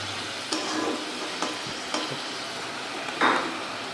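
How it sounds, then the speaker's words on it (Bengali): Onions fry in oil in a pan for a Bengali-style katla fish kalia, a steady close sizzle broken by a few light scrapes and taps of a spatula stirring. "ভালো করে ভাজা হবে।"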